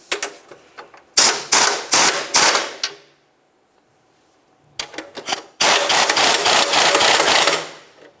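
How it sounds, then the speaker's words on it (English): A 17mm ratchet tightens rear bumper mounting nuts on a 1994-2002 Dodge Ram 2500, close rapid clicking in two bursts of repeated strokes separated by a quiet pause, loud and metallic. "Use our 17mm to tighten each one of these two mounting nuts."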